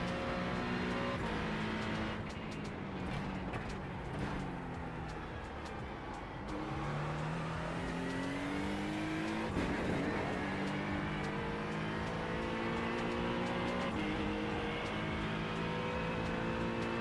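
An Acura race car in a racing video game on a St Petersburg circuit drones steadily for the whole stretch, engine pitch climbing through gears and dipping under braking, with a brief tire squeal or scrape midway.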